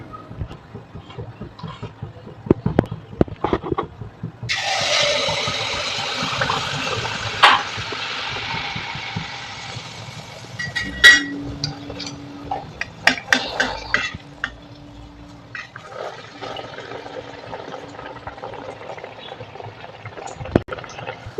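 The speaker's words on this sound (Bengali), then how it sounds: "এই যে কড়াইতে তেল দিয়ে দিয়েছি, এবার ভেজে নেব।" Pitha batter made with milk dropped into hot oil in a wok, a steady broad frying sizzle rising suddenly and continuing close by, with occasional clinks of a utensil against the pan.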